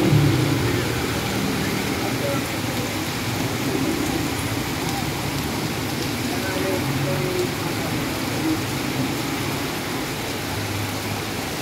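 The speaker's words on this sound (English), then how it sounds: "we got us a rainy day here in Olongapo City" Steady rain in Olongapo City gives a dense, even hiss for the whole stretch, with a low rumble of passing traffic mixed in underneath.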